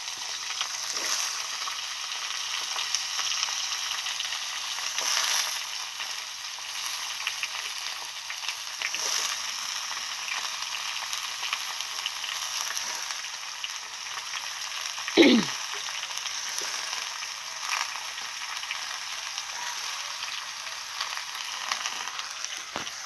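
Cut cauliflower stems and eggplant fry in hot oil with a steady, crackling sizzle, close by. Occasional stirring scrapes and one sharper clatter of a utensil come through midway, and nobody speaks.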